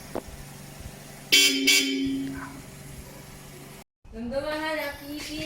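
A Hella Avant car horn fitted to a Toyota Vios XLE blares in a sustained honk, then after a short gap sounds again with a rising tone, over a low engine idle.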